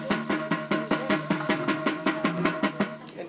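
Zirma drum of cedar and peccary skin, played with a rope, giving a steady run of evenly spaced buzzing, rattling strokes that sound close and loud, with no talking.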